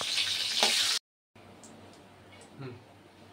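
Cloves, cinnamon, bay leaf and dried chillies hiss and sizzle loudly in hot oil, a bright crackle that cuts off abruptly and then gives way to faint, quieter sizzling.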